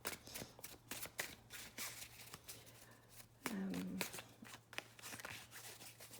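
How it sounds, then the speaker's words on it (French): A tarot card is drawn from a deck, giving a short papery shuffle and slide amid soft handling noises, with someone speaking quietly over it. "Je vais tirer une dernière carte avec les divins de Gaïa"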